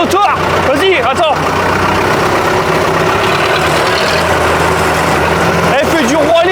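Farm tractor engine running steadily at a cattle farm during pulp distribution, a loud continuous low rumble that fills the whole stretch while people talk over it near the start and the end.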